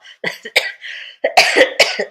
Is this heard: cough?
yes